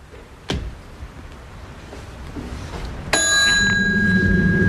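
A hotel front-desk bell at the Twilight Zone Tower of Terror is struck once, giving a loud, bright ding that rings on and sustains, preceded by a faint click.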